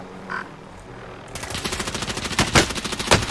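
Automatic gunfire rings out in Call of Duty Warzone: a rapid burst of close shots after a quiet moment, loud and rhythmic, with a few heavier cracks standing out near the end.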